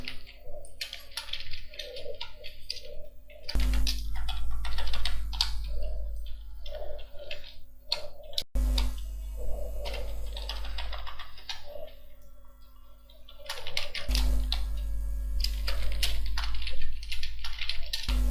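Computer keyboard typing while data is entered into a Microsoft Excel spreadsheet, with steady fast clicking of the keys throughout and no talking.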